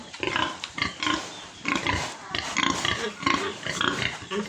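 Pigs on a farm, including a breeding boar, grunt and squeal in a dense, continuous run of close, loud vocalizations with no clear pauses.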